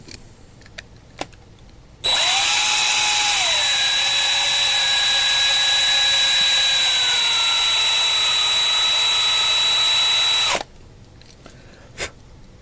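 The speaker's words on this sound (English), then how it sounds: "when I've drilled this out, it's a little noisy" A loud, steady high-pitched drill whine runs for about eight seconds as a 1/64 scale diecast NASCAR model car is drilled out, its pitch dipping slightly early on, then stops abruptly; quiet clicks before and after.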